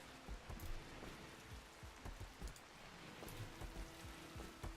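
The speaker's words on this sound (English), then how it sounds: "Because now it's raining." Steady rain falls in the video game RimWorld, a soft continuous wash with scattered drop patter throughout, moderately quiet and with no talking.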